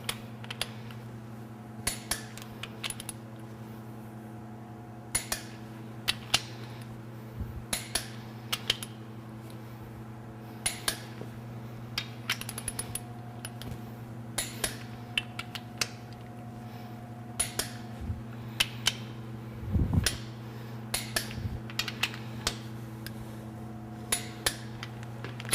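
Torque wrench tightening bolts on an Oldsmobile V8 engine build, heard as sparse sharp clicks and metallic taps spread over a steady low hum.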